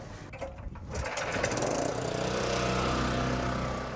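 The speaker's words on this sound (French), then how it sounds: "J'ai un moteur hydraulique, ça va faire du bruit" A hydraulic motor hauls in fishing nets on a boat on Lake Morat. The steady mechanical whine starts softly and grows louder, then holds as a continuous drone.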